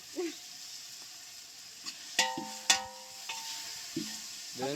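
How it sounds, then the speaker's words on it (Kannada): Chicken sukka fries in a pan with a steady, close sizzle, broken by several sharp metallic clinks and scrapes as a utensil stirs against the pan. "ಚೆನ್ನಾಗಿ ಫ್ರೈ ಮಾಡಬೇಕು"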